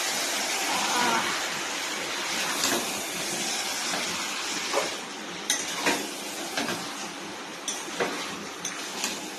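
Meat cooking in a pot in a home kitchen, with a steady sizzling, bubbling hiss, scraping stirs and occasional clinks of a utensil against the pot, close and continuous throughout.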